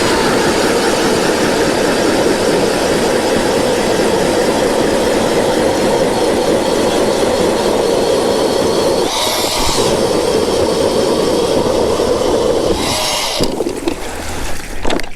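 A Jiffy Torch ice auger with a Ripper blade drills an 8-inch hole through lake ice, its engine roaring loud and steady at close range, with brief scraping bursts as the blade breaks through near the end.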